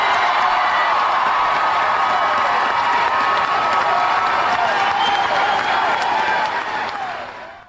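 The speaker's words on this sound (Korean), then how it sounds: "계속 7분 내내 박수가" A large crowd at a gun-control rally claps continuously in a dense, loud roar of applause mixed with cheering, holding steady before fading slightly at the end.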